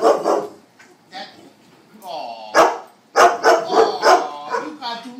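A house dog barks and yips excitedly at a visiting puppy, several sharp close barks in bursts with a whimpering whine between them, while a person talks softly.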